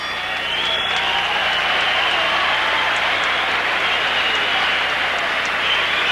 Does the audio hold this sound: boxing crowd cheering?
yes